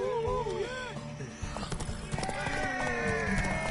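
A horse in The Witcher 3 video game trots with rhythmic clip-clop hoofbeats and gives a whinny, while in-game voices talk over the hooves.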